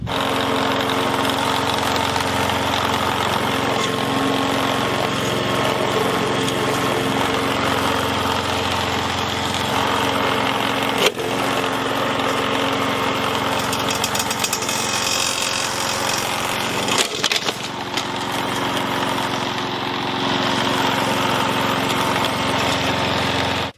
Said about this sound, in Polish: Teraz test z kosiarką.